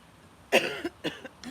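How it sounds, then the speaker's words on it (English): A single sharp cough, close and fairly loud, followed by a couple of smaller throat-clearing bursts in an otherwise quiet room. "Didn't mean to cough."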